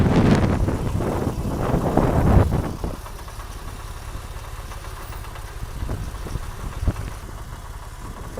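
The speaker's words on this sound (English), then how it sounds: "And now we've got exhausts, dual exhausts on either side. We're going to listen to those." A Porsche 911's dual exhausts idle in a loud, rumbling burst for about three seconds, then settle into a quieter, steady low idle close to the microphone, with wind buffeting.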